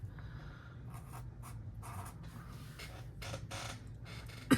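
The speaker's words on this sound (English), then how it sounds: "I should probably write that down, shouldn't I?" Quiet, close scratching of a pen on paper comes in short bursts with small pauses between the strokes, ending in a tiny click.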